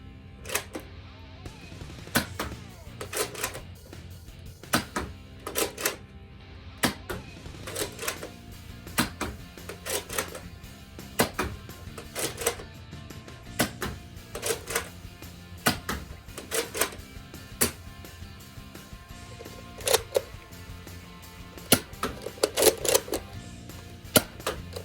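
A Nerf Fortnite HR blaster fires waffle darts in a long run of sharp, clicky shots spaced about a second apart over a steady mechanical hum.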